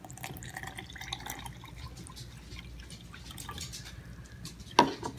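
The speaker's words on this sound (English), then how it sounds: "So I'm just gonna go ahead and pour some of my urine in this glass." Urine poured into a drinking glass at home, a quiet trickling and dripping stream that ends in a brief, sharper splash near the end, with no talking.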